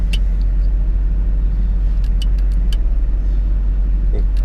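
A Normand hybrid snowblower engine runs at full throttle, a steady, close, loud mid-pitched drone with a constant low rumble and a few faint clicks and taps over it.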